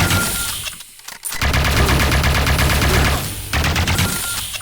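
Heavy, continuous shotgun gunfire and explosive blasts roar from the top-down shooter video game Neon Chrome, loud and dense with a brief gap before the barrage resumes.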